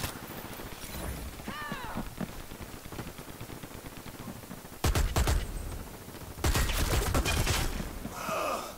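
Gunfire from an automated turret in the online shooter Dirty Bomb, with sharp bursts of shots at close range around the middle and again in a heavier, sustained volley near the end over a busy game background.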